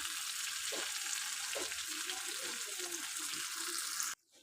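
Hot oil crackles in a pan while potatoes fry for a vegetarian aloo dum, a constant close sizzle with faint murmuring underneath, ending abruptly.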